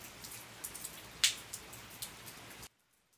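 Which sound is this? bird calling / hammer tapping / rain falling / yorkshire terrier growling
rain falling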